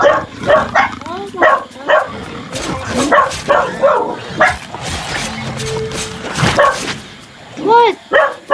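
Several dogs bark and yip in bursts, some close and loud and some fainter, with a whimper among them, mixed with a person talking throughout.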